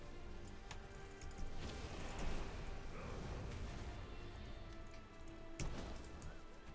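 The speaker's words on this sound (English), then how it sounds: "it just excites me so much to just listen to the rain" Steady rain in World of Warcraft patters and hisses over a muffled background, with occasional small ticks and thumps; no voices, just a continuous wet wash of sound.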